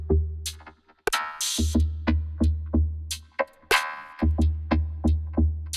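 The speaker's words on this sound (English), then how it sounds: "the other way you could use is Vocoder V by Arturia" Arturia Vocoder V synth line sidechained to a drum track, so the tone chops rhythmically with each punchy kick and bright snare hit, loud and upfront in a steady groove with short gaps, without voices.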